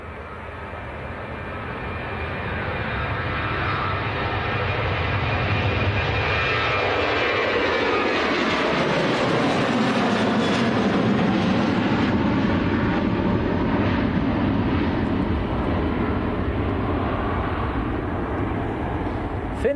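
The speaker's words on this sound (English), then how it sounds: "This is a Ryanair to Londonderry in Ireland" A Ryanair airliner bound for Londonderry, Ireland roars past at Manchester Airport, its engine noise building over the first seconds and then holding as a loud, steady broadband rush with a slowly sweeping pitch, no talk over it.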